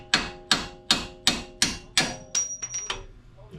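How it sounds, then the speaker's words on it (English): An air hammer pounds a truck part during a Rough Country lift install on a 2025 Ford Maverick, with six loud, evenly spaced metallic blows followed by lighter taps and a faint squeal. "One of the dudes just hit it with an air hammer and it just shot."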